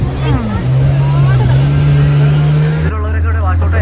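A motorboat sets off through sea waves with a loud, steady engine drone and rushing water, while people talk over it.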